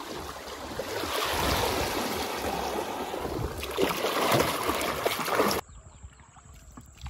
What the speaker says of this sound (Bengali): নৌকা একা একা চলছে।